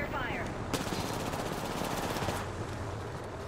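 Rapid automatic gunfire in the video game Apex Legends, a dense burst of shots lasting a few seconds, loud and close, with a brief voice at the start.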